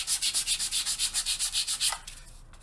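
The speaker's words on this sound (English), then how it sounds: "you just want to simply take a sanding sponge and just" A sanding sponge rubs back and forth over the painted surface of a 1/48 scale plastic He.111 model aircraft in quick, even strokes, about a dozen rhythmic swishes, then stops and goes quiet.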